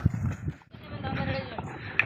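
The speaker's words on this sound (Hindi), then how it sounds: "घोड़ी माशाल्लाह से सही जा रही है।" A mare walking along with clip-clopping hooves, soft rhythmic hoof beats underneath people talking nearby.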